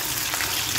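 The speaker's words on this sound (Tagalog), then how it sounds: "Prito-prito muna tayo guys." Steady close-up sizzling and crackling of chicken and pork adobo frying in hot oil, a continuous hiss with no talking.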